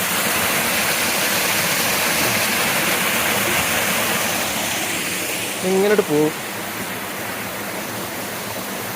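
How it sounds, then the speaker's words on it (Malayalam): A waterfall roars as a loud, steady broadband rush, with a voice speaking briefly over it toward the end as the roar eases slightly. "ഇതാണ് ഞങ്ങൾ വെള്ളച്ചാട്ടം."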